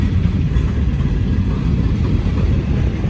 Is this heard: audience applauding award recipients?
no